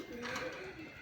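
Native deshi and Raj Golla pigeons give a soft, low cooing, faint and brief, close at hand.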